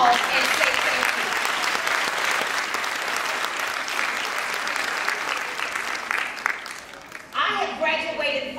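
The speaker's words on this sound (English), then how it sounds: "give all of your parents, teachers, Big Mama, Coco, whomever, a big round of applause and say thank you." A graduation ceremony audience bursts into a big round of applause, a steady, full wash of clapping that tapers slightly before a voice begins speaking at the end.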